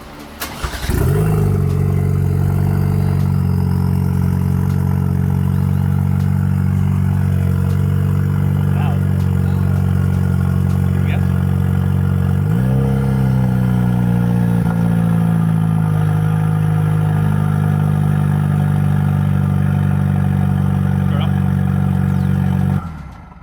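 A Cadillac ATS with the 2.0-litre LTG turbo four idles loudly with a catted downpipe and no exhaust fitted, a deep raw drone with a brief rev bump midway, running steadily for about twenty seconds before cutting off.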